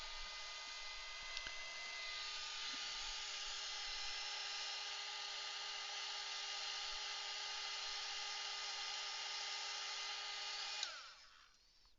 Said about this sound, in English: we're going to dry this off